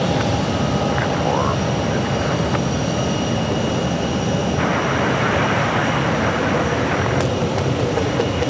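Steady broadband roar of aircraft at Phoenix Sky Harbor Airport, a continuous loud jet rumble with engine whine across the whole stretch, with faint voices in the background.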